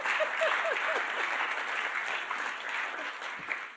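Audience applause at a film pitching event in Geneva, a dense, steady wash of many hands clapping from a moderately distant crowd that holds evenly before tapering slightly.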